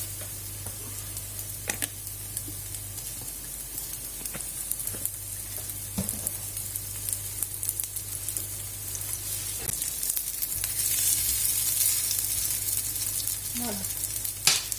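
Galettes sizzle in oil in a pan, a steady close frying hiss running throughout with occasional clinks and light stirring, fairly quiet.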